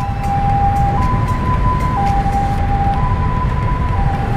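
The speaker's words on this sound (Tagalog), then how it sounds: "Kailangan alert kagad kayo pag nakakarinig kayo ng ambulansya." A loud ambulance siren alternates between two tones about once a second, over a constant rumble of traffic on EDSA.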